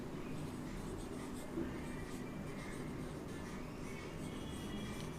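Pen writing by hand on paper, a faint continuous scratching that runs steadily for several seconds with no speech over it.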